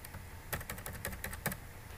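Fingers tap out a quick run of keystrokes on a computer keyboard, a dozen or so crisp clicks in an uneven burst, close and fairly quiet, with no talking.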